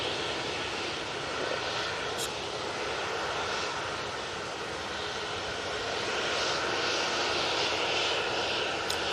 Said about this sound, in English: Aer Lingus just touching down.